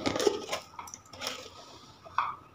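A spoon scoops sugar into a pot to make syrup for rosogolla, giving a few light metallic clinks and scrapes at close range, spaced irregularly over a couple of seconds.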